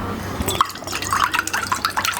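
A bowl of water poured into a small kadhai already holding desi ghee, for sugar syrup; a splashy trickle breaks into bright, irregular drips and plops, close and clear, with no speech.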